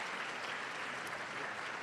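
Brief, fairly faint burst of steady audience applause at a round-table conference session on justice, an even continuous patter of many hands.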